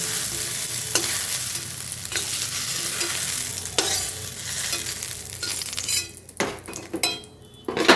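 Ridge gourd fries in a pan with a loud, close sizzle as a metal spatula stirs and scrapes against the pan, and sharp clinks of utensils come near the end; no speech.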